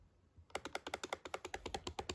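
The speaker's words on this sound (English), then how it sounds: "I'm pressing play with the click, but it don't work." A broken laptop keyboard key is clicked over and over, a quick, even run of about fifteen close, crisp taps that starts after a brief quiet moment.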